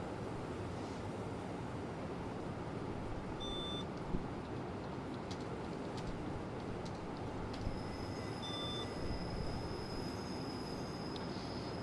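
A Swiss GE 4/4 II electric locomotive running in Train Simulator Classic, a steady loud rolling rumble with brief wheel squeals and high tonal whines now and then, no talking.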